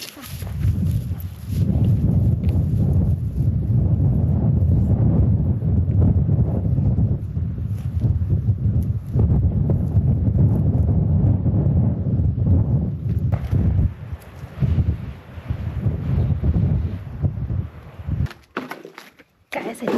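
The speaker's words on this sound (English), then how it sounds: "And I know you can only hear the wind" Strong wind gusts hard and steadily against the microphone at the high-altitude Sunnyside Mine site near Silverton, Colorado, roaring and buffeting without a break. Near the end it briefly drops away into a few brief rustles.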